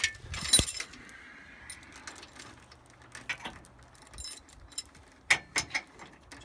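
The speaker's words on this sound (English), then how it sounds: "Now we'll go ahead and hook up the safety chains." Metal trailer safety chains clink and jangle as they are hooked up, in irregular rattling bursts with a couple of sharper clanks, close by over a quiet outdoor background.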